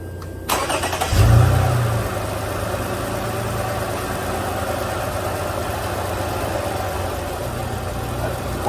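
A 2008 Toyota Rav4 engine with a suspected coolant loss cranks over and fires, flares briefly, then settles into a steady, close idle that carries on alone.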